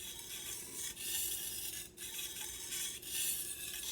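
A knife blade is drawn in steady rasping strokes against a sharpening surface, close and continuous with brief gaps between strokes, and no voices.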